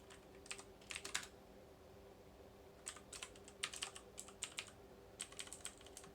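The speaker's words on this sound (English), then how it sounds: "I can't type one-handed." Keys clattering on a computer keyboard in a DOS session, short irregular bursts of quiet, close typing separated by pauses, over a faint steady hum.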